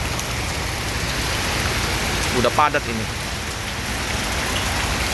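Heavy rain pours steadily around a bus stop in Palembang, a dense, loud, unbroken hiss, with someone speaking briefly in the middle.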